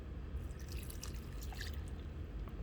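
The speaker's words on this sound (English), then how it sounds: "So I'm going to pour a cup of water in." A cup of water poured into a slow cooker holding a pot roast gives a faint, quiet trickle and scattered light splashes over a low background hum.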